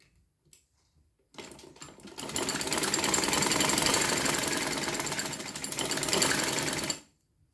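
A sewing machine stitches fabric for a lace and cutwork sleeve in a loud, rapid, steady chatter lasting several seconds, after a few faint handling taps, then stops cleanly.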